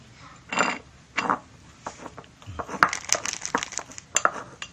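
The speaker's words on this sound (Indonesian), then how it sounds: "Kita aduk terus hingga rata." Fish bait mixture is stirred in a container, producing scraping, clinking and crunching strokes in an irregular rhythm, close by, with short pauses between bursts.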